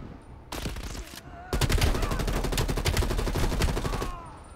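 Automatic gunfire in the Call of Duty: Black Ops Cold War campaign side mission Operation Red Circus, a short burst followed by a longer rapid rattling volley, loud and close.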